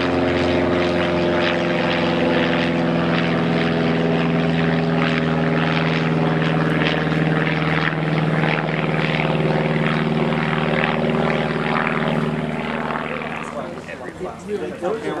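A Glasair light aircraft's propeller engine drones loudly and steadily at a California fly-in, close by and continuous before fading slightly at the end.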